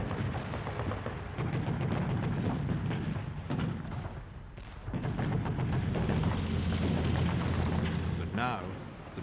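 Heavy artillery and gunfire pound at the D-Day landing on Gold Beach as British infantry come ashore, a dense, rumbling barrage with repeated booms that continues almost without a break.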